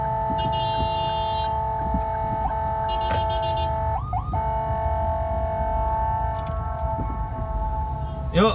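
An ambulance siren wails in the distance with rising and falling tones over a steady mechanical hum, fairly faint and partly masked by background noise.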